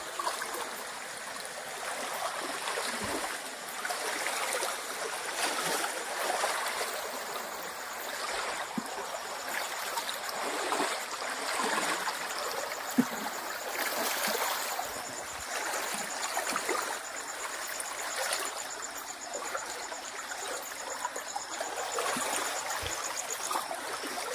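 A small stream branching off a river in the Konkan region flows steadily, a continuous broadband rush and trickle with no voices, holding an even level throughout.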